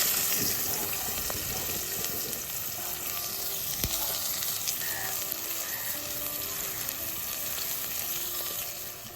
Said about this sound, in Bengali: এবার তেলে আমি শুকনো লঙ্কা ফোড়ন দিয়ে দিয়েছি